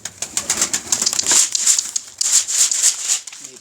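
Flock of a pigeon keeper's flying pigeons, a dense rapid clatter of flapping wings and fluttering close by, loud and continuous with uneven pulses throughout.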